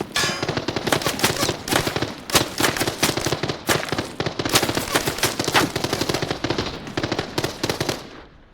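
Gunfire in the video game Arena Breakout: Infinite, sustained rapid automatic bursts with sharp cracks packed closely together, loud and near for about eight seconds before cutting off.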